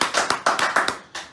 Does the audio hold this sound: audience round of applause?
yes